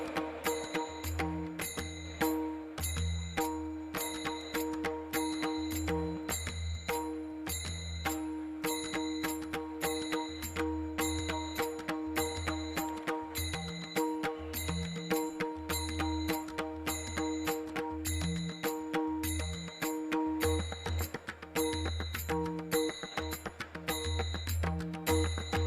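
A world peace bell at the G20 Interfaith Summit, World Peace Dome, rings over and over in a dense, continuous pattern of bright metallic tones with a low hum underneath, going on throughout.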